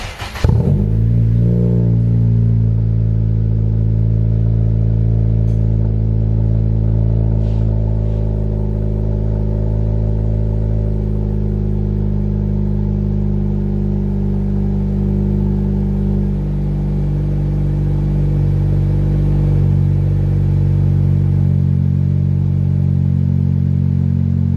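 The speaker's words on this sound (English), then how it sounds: "let you guys hear what the car sounds like with the M8 Performance street exhaust and the PRL front pipe" A 10th-generation Honda Civic cold-starts with an M8 Performance street exhaust and a PRL catless front pipe and downpipe. A loud catch of the engine gives way to a deep, steady droning idle that holds for the whole stretch.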